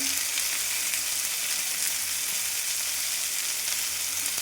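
Tomatoes and turmeric sizzle and fry steadily in a hot pan, a continuous close crackle with no talking.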